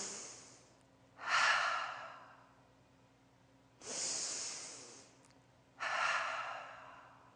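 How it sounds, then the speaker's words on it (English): Three slow, deep breaths, each a soft nasal inhale followed by a longer airy exhale through the mouth, close and quiet with low room hum between them. "take a couple of deep breaths. Inhale through your nose and exhale through your mouth"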